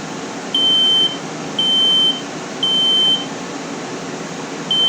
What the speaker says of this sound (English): Please test my smoke alarm.